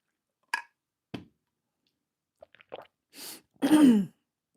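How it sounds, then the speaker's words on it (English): Several short, separate coughs and throat-clearing bursts, spaced irregularly with silence between them, close to the microphone. "Me coughing a lot is common"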